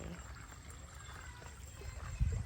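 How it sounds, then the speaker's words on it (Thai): A stream trickles and flows through a rubber plantation, a soft continuous burble of water at low level with a brief thump near the end. "น้ำไหล"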